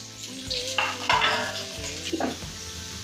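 Loud sizzle as shallots hit hot oil, with stirring and a few utensil clinks against the pan, close by and unaccompanied by speech.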